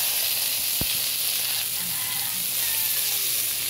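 Chicken frying in a pan after browning, with tomatoes just added, gives a steady, loud, continuous sizzle and hiss with no voices.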